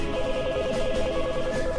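A phone rings in the horror video game They Look Like Us, a steady, repeating electronic trill that warbles in a regular on-off pattern throughout, mid-loud over a dark ambient game backdrop with no talk.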